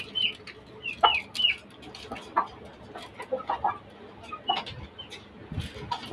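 Laying hens on a chicken farm cluck and squawk in short, scattered bursts over a low background hum. The calls are moderately close and faint, with occasional murmur in between.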